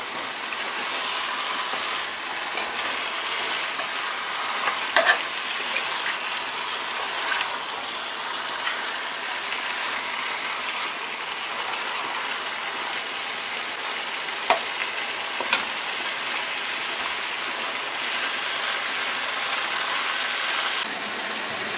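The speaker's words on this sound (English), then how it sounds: "So you want to mix that in there now and get all your fish pieces coated in your curry paste." Snook fish pieces sizzling as they are stirred into curry paste in a hot pot, a loud, steady crackling fry throughout with occasional clinks and scrapes of the spoon against the pot, with no talking.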